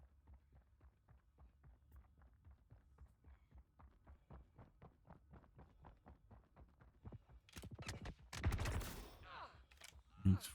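Rapid, evenly spaced gunshots hit a target in the space game Star Citizen, ticking along in a steady rhythm before a louder, denser burst near the end.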